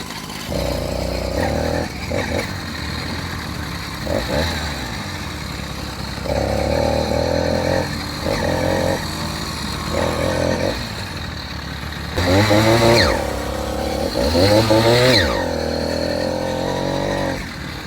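A motorized bicycle's small engine runs loudly and continuously throughout, with its pitch rising and falling as it revs, swelling strongly near the end.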